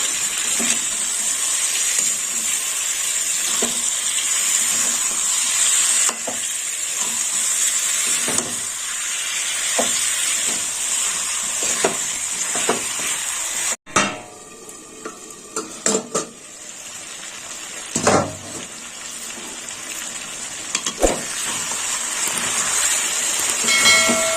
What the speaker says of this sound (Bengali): দিয়ে দিলাম খাসির মাংস, ভালো করে কষে নেব।